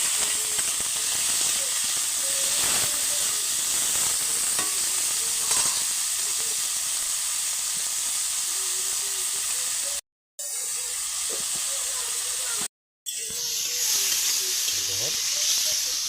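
Potatoes frying in a pan after carrots give a constant loud sizzle and hiss, broken twice by short silent gaps, with faint scraping in the background.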